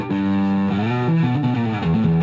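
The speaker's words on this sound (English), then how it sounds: "It's real high and thin distortion when you get this turned up." A bass runs through an EBS Billy Sheehan signature overdrive pedal, turned up to a high, thin, buzzy distortion, playing a short sequence of sustained, shifting notes, loud and close with no talking.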